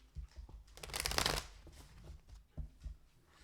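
A deck of Tarot of Dreams tarot cards is shuffled up close, a quick riffling burst followed by a few softer taps and flicks of cards, with no talking.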